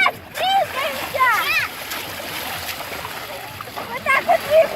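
Children splash about in the sea, with water sloshing and spattering at close range beneath excited children's voices and shrieks that run through most of the scene.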